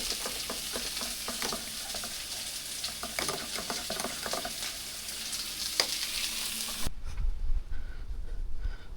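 Steady sizzle of an egg frying in a pan, with scraping and stirring taps over it, then the sizzle cuts off near the end and a low rumble remains.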